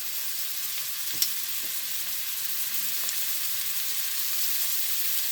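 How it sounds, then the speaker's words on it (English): Shrimp sautéing in a pan turned up high, a bright, even hiss of frying with a couple of small clicks from the pan, heard alone without talking. "I'm going to add these shrimp to this pan. I turned that pan up to pretty high."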